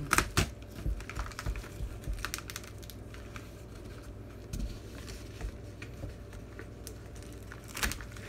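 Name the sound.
opening the packaging of a vinyl LP box set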